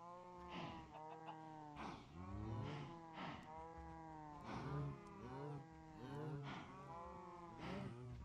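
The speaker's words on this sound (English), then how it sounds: "I like how we have the normal cows" Minecraft cows mooing in the video game, several low drawn-out moos overlapping in a steady series, fairly close and clear with no talk over them.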